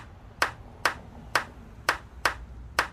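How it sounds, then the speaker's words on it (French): Six evenly spaced claps ring out in a cartoon sound effect of people applauding, sharp bright single hits about half a second apart over a faint background, with no voices. "Children dance and older people clap."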